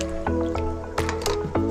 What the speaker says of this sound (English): And then we have 1/4 cup of warm water.